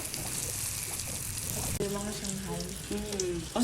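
Lumpiang toge spring rolls fry in hot oil with a steady sizzle, while a person speaks partway through.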